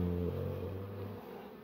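Honey bees buzzing in a soft, continuous drone, steady and low in level, with a brief lower tonal hum fading out partway through.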